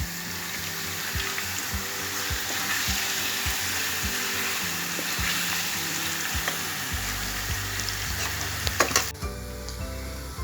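Steady oil sizzling and crackling of eggplants frying in a pan for imam bayıldı, close and continuous, with a few utensil clinks and a brief tap-water burst near the end.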